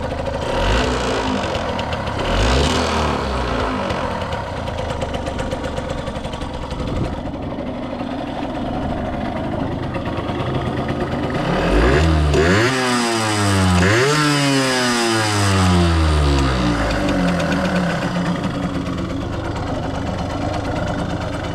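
A restored Yamaha YSR50 mini bike's two-stroke engine runs up close, crackling and buzzing at idle before several sharp revs rise and fall in pitch midway, then settling back to a rattly idle; no talk.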